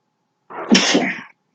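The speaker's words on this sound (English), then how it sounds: "I'm about to sneeze, so give me a minute." A single sharp sneeze, close and loud, bursting out after a moment of silence.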